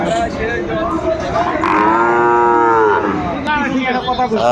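A Sahiwal cow lets out a long, loud, drawn-out moo nearby at a cattle market, followed by a shorter second call.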